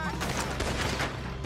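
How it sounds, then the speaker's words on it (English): Dense, continuous gunfire in a Red Dead Redemption 2 shootout, a steady loud barrage of overlapping shots with no clear gaps, likely mixed with faint shouting voices. "Looks like we're shooting our way out of here, fellas!"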